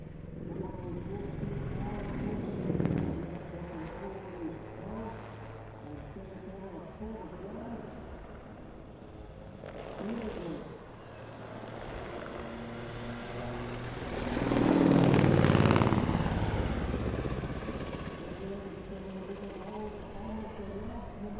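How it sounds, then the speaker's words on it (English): A Swiss Air Force Super Puma helicopter dives at an airshow. Its rotor and engine noise is distant at first, then swells loud late in the pass, while commentators talk throughout. "The helicopter diving down, it's going to pitch up into an on-crowd bunt"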